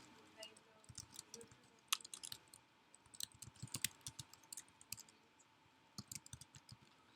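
Rapid, irregular keystrokes on a computer keyboard, close and fairly quiet, with clustered clicks throughout, over a low background hum during a live stream.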